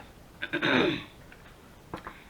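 A short burst of coughing, two or three harsh coughs close by, followed by quiet and a couple of faint clicks.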